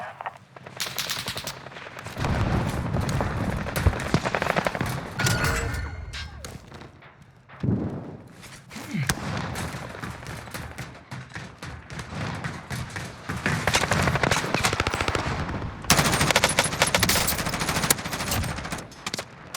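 Rapid machine-gun bursts and scattered gunshots crack through a Warzone Caldera firefight, loud and dense for nearly the whole stretch with only a brief lull midway.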